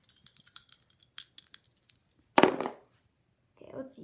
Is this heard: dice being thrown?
yes